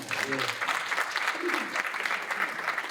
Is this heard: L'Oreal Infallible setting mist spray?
no